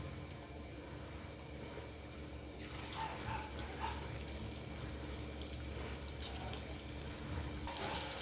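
Chicken pakora pieces fry in hot oil, a steady dense sizzle and crackle throughout with brief louder bursts as pieces settle in.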